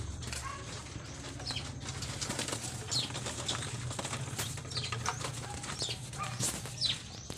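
Racing pigeons shuffle and flap their wings in repeated bursts, with low cooing and scattered chirps under a steady hum, close by.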